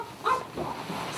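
Dogs being transferred between vehicles for loading onto an aircraft at an airport give brief soft whimpers and a short yip, close by and fairly quiet over background noise.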